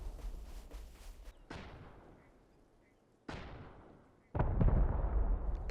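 Rockets launching in the survival video game Rust: three separate loud whooshing blasts, each followed by a fading rush, the last one heaviest, heard at a distance with no talk.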